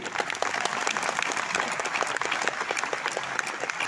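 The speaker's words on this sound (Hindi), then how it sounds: "आप जरा थोड़ा ताली तो बजाइए।" A room full of listeners applauds a speaker at an AYUSH ministry event on naturopathy, with dense, steady clapping that fills the space evenly from start to finish.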